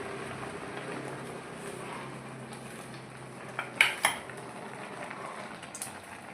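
A metal cooking pot is handled and oil poured in for tamarind curry preparation, with quiet low rustling followed by two sharp clinks of metal around the middle and a faint tap near the end.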